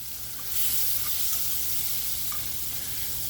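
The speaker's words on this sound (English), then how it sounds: "we're going to start melting a 1/4 cup of butter" A quarter cup of butter melts in a warm pot, giving a soft, steady hiss and faint crackle that swells slightly after the start and continues evenly, with no talking.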